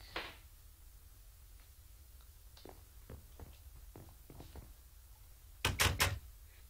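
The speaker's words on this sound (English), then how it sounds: "Close the door." A door in Minecraft bangs shut with a quick cluster of loud wooden knocks near the end, after a series of soft scattered clicks and taps.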